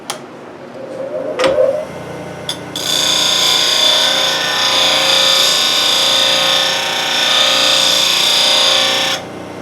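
A lathe tool is ground on a PSI sharpening system, giving a steady, bright grinding whine for several seconds after a few short knocks and scrapes, close and fairly loud.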